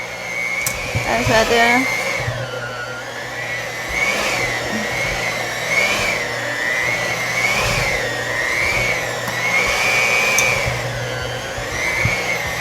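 Electric dough mixer kneading mahamri dough, a steady whirring motor hum that rises and falls in slow regular waves as it turns, with a voice speaking briefly over it.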